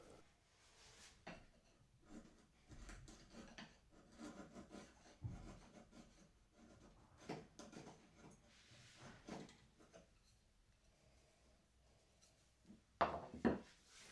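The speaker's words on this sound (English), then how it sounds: "Check out how well it cuts through this purple heart. A very hard hardwood." A freshly sharpened chisel pares through very hard purpleheart wood with quiet rubbing, scraping strokes in uneven bursts, faint and close, ending in a couple of sharper cuts.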